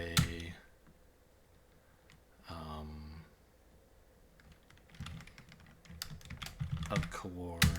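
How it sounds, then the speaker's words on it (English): Typing on a computer keyboard comes in short bursts of clicking keystrokes, close and fairly quiet, with someone speaking between and over them. "Let's actually type garden as a U array."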